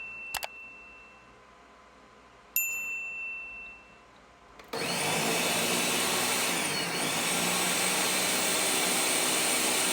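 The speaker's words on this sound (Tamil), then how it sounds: "இப்போ அதை நம்ம நல்லா மிக்சியில் அடிச்சுக்கலாம்." A mixie electric mixer grinding scooped musk melon flesh starts up midway and runs as a loud, steady broadband whir to the end, after a few clinks and a quiet room beforehand.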